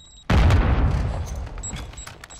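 A Semtex grenade goes off in a video game with a sudden loud boom, then a long rumbling decay with scattered crackle, close and heavy.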